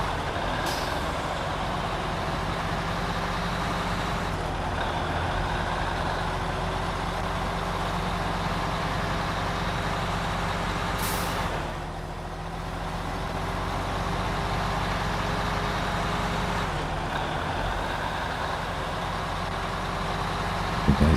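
Heavy trucks idling and rumbling in the off-road driving game SnowRunner, a steady, loud low engine drone with brief hiss-like air bursts, continuous throughout with no talk.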